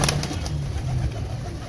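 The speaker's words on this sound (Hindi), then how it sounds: "कबूतर बाहर आते हैं तो आपको दिखाते हैं।" Pigeons in a breeding setup coo in soft, low, rolling calls, with several overlapping coos and faint rustling close by, and no talking.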